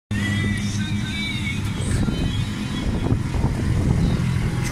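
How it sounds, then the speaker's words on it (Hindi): Suzuki Mehran engine running after being started in a repair workshop, a close, steady rough idle with a fluctuating mechanical rattle throughout. "इंशाल्लाह मैं मुकम्मल करके गाड़ी स्टार्ट करता हूँ"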